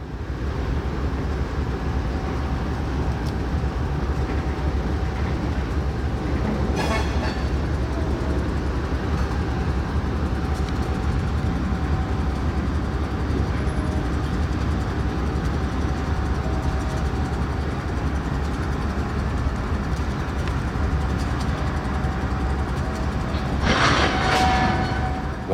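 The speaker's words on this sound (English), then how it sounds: "the PL1 pulls the 5 empties out of Inland Fuel and ahead of the switch." A PL1 freight train pulling five empty cars out of a fuel siding in Central Connecticut, a continuous loud low rumble with faint rail clatter and a couple of brief squeals, steady throughout.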